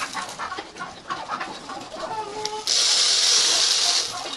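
Mixed-breed backyard chickens cluck and call near at hand, with a loud, steady hiss joining partway through and running to the end.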